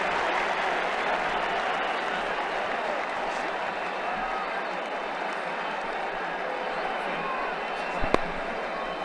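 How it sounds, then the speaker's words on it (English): A stadium crowd applauds and cheers a boundary in the cricket video game Ashes Cricket 2009, a steady loud roar of clapping throughout, with a commentator speaking over it. "The crowd really enjoyed that one."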